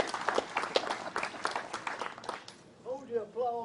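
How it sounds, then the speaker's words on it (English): Applause and clapping from an audience at a college building rededication ceremony fill most of the clip, then fade as a voice begins speaking near the end. "Hold your applause until I get through."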